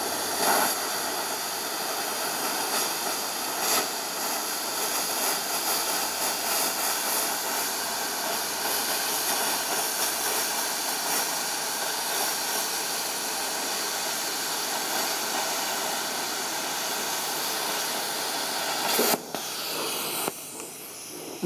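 A BestArc BTC500DP plasma cutter runs with a continuous, loud hissing rush of air and arc, steady throughout with a brief change near the end.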